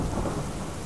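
Steady, loud thunderstorm ambience of rumbling thunder and heavy rain from the Slender: Mansion video game, a continuous wash of sound with no voices.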